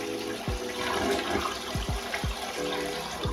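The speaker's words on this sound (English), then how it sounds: "let's go ahead and flush" A toilet on well water flushes with a rushing, gurgling wash of water that stays steady throughout, punctuated by several low thumps, close by.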